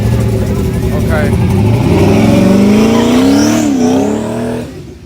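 A no-prep drag race car's engine revs hard and loud at the track, the pitch climbing and sweeping up and down before cutting off, with excited spectators talking and shouting over it.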